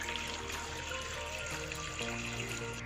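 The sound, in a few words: water being poured into pot for rosh gosht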